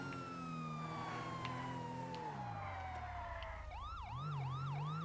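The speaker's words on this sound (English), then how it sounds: "And we're back to a different siren." A police car siren in GTA V, loud and close, sweeping slowly downward in a long wail and then switching to a fast, repeating yelp pattern near the end.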